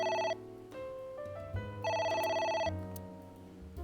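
A telephone rings in the video game A.I.: The Somnium Files, an electronic ringtone with clear tonal chimes repeating in bursts, loud and close, with no talking over it.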